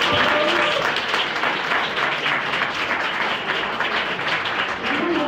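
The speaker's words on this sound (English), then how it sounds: "Can we just have one more round of applause for our panelists?" An audience applauds panelists after a philosophy event panel discussion. Dense, sustained clapping fills the room at steady loudness throughout, with no break.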